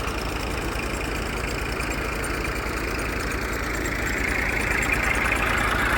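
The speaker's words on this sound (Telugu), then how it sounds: "బాహుబలి మోటార్ అంటే ఇది" A large 'Baahubali' dewatering pump motor runs steadily near the microphone, giving a loud continuous engine drone with a rhythmic low throb that stays constant and carries no speech.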